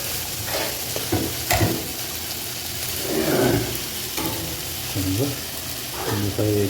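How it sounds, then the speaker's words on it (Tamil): Donuts deep-frying in hot oil, a steady crackling sizzle with bursts of bubbling and stirring clatter, fairly close, with brief faint voices in the background. "வறுத்துட்டு ஒரு திருப்பி எடுத்துக்கலாம்"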